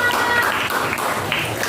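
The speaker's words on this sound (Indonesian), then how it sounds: "Yuk tepuk tangannya untuk kelompok 2." A classroom of students clapping for a group of classmates, a brief, dense patter of hands close by with some chatter mixed in.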